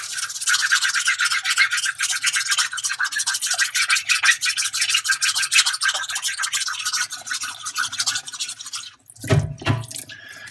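A Tomo Nagura stone is rubbed back and forth on a DMT diamond plate with water, giving a steady gritty scraping that runs loud and close for about nine seconds before a brief pause and a few wet knocks.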